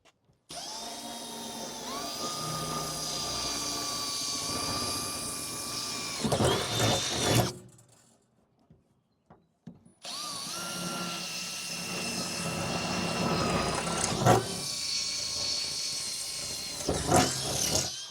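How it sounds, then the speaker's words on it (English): A power drill whines loudly in two long bursts, separated by a few seconds of near silence, with rough grinding spikes as the bit cuts holes through aluminium. "drill out these 4 holes"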